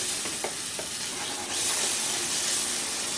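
Salted spice paste for Bengali bottle gourd with poppy seed sizzles and fries steadily in a pan, with soft scraping stirs through the hiss, close and continuous with no talking.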